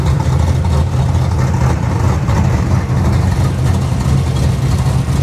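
A Dodge car launching at a Roadkill Nights drag race, its engine a loud, steady low rumble throughout with no break or rising surge.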